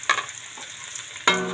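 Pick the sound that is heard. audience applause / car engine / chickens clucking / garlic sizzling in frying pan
garlic sizzling in frying pan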